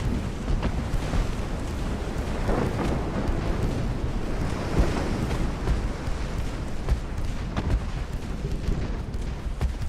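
A torpedo strikes a warship in Ultimate Admiral: Dreadnoughts, setting off deep rolling explosions and rumbling booms with scattered sharp bursts, sustained and loud across the whole stretch.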